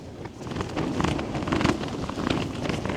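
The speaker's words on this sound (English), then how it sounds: "That wind just cuts straight through you." Strong gusting wind buffeting the microphone at a wild camp in a tent, a rough continuous roar that swells and eases, with no talk.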